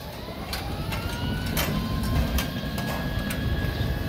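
A Lely Vector feeding robot pushes feed along a barn feed fence, giving a steady mechanical whirring and rumbling hum with faint repeated clicks throughout, close by and alone.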